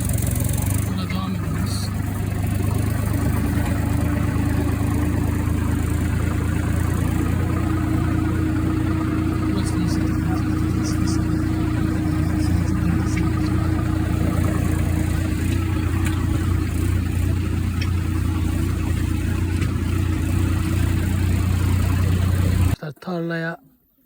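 A tractor engine idles steadily in the shade on a farm during wheat threshing. It gives a continuous low, droning hum with a constant pitch throughout, loud and close, before cutting off abruptly at the end.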